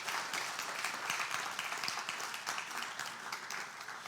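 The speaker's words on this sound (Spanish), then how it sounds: "Dele palmas al Señor" A church congregation claps for the Lord during a Bible study service, a fairly quiet but steady patter of many hands with some rhythmic individual claps, continuing throughout.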